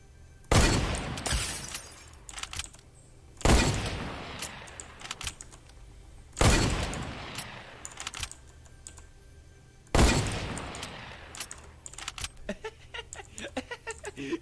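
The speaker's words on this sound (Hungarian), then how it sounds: "Húzottan előre lövök." Fortnite Battle Royale gunfire rings out in four loud, evenly spaced shots a few seconds apart, each a sharp crack followed by a brief decaying tail over quieter game background.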